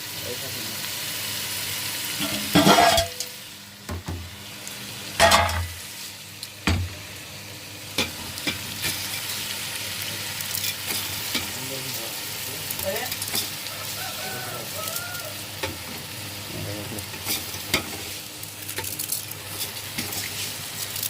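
Rice added to a cooking pot and stirred, with steady sizzling and frying noise, a few sharp knocks and scrapes of a spoon, and people talking over it.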